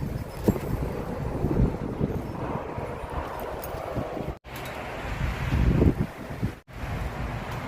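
Strong gusty wind with snow buffets the microphone in roaring surges, dropping out briefly twice before returning; no talking.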